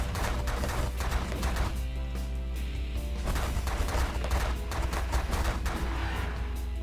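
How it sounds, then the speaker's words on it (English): An energy weapon fires repeatedly in the space strategy video game The Last Federation, a series of sharp crackling blasts in irregular bursts over a constant low hum, moderately loud, with no talking. "And we're just going to lay waste with this energy, weapon."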